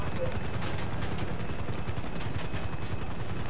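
Police gunfire in a video game crackles as rapid, evenly spaced bursts, like a machine gun, over a constant droning engine rumble. The shots sound fairly distant and muffled.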